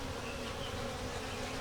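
Honey bees buzz steadily around a small nuc starter hive, a dense, even drone of many wings close by with no other sounds.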